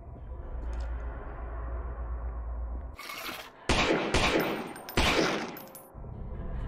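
Gunfire in the horror video game Lost in Vivo: a few loud, close bursts of shots with sharp cracks and brief gaps, heard over a low droning game ambience.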